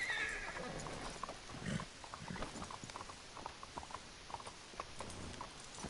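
A horse in Red Dead Redemption 2 walks with quick, steady clip-clopping hooves, and a brief whinny rises early on, all faint and without talk.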